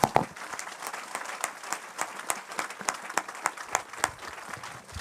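A church congregation claps together in steady applause, a dense patter of many hands with rhythmic accents, fairly close and without voices on top.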